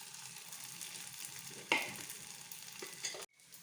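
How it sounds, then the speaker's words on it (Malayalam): Cauliflower fries and is stirred in a pan, a steady close sizzle with scraping stirs and a sharp clatter partway, ending abruptly. "കോളിഫ്ലവർ കൊടുക്കാമെന്ന് ഓർത്തുകൊണ്ടാണ് ഞാൻ വറുത്തുകൊണ്ടിരിക്കുകയാണ്"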